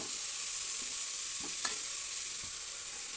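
Chopped carrot, cucumber, ivy gourd, okra and brinjal fry in a pan for a village-style pappu charu. A steady, close sizzle hisses throughout, with a few faint stirring clinks.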